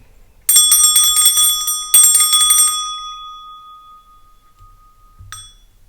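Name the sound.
bell ringing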